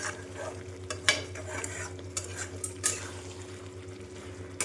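Chicken sautéed in oil in a pan with a ground onion and chili paste, a low steady sizzle under a background hum, punctuated by a few scraping stirs and clinks of a spoon.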